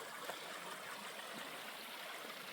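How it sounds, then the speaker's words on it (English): A spring-fed creek flows steadily nearby, a continuous broadband rush of moving water with a faint trickling texture, even and unbroken throughout with no voices. "So this creek is spring-fed."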